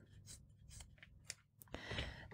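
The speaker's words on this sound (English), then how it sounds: "Just cut with scissors." Scissors snip through the end of a replacement belt for a PHLster Enigma Express holster, a few quick crisp cuts spaced apart, then a louder rustling burst, close and fairly faint.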